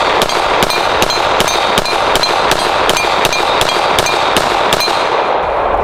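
Glock pistol fired in a rapid string of about fourteen sharp, loud reports at an even pace, each crack close and punchy over a dense, noisy background.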